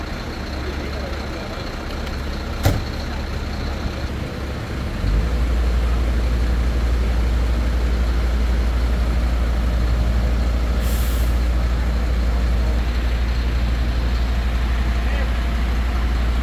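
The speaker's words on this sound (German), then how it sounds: "Das ist jetzt ein Fahrzeug von der Gemeinde Calvia, mit dem wird jetzt praktisch das Löschfahrzeug befüllt" Municipal tanker truck from Calvià running while it refills a fire engine: a steady low diesel idle dominates, preceded by a brief air-brake hiss, with faint voices in the background.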